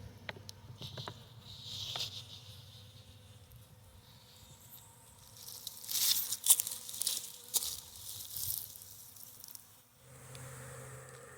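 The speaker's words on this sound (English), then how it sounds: "the bees just kind of bobbing back and forth looking at the front of the box." Honey bees fly in front of a hive box on a cold winter day. A soft, steady insect hum runs throughout, with a few brief louder buzzes as individual bees pass close. No one speaks.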